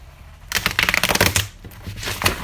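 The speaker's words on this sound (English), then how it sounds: "So I'm going to give it a little shuffle" A deck of reading cards is shuffled by hand in quick riffling bursts, close and crisp, with a brief pause partway through and no speech.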